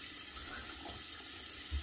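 Tap water runs from a faucet to rinse a shaving blade, a soft, steady hiss that stays even and unbroken, with a faint low thump near the end.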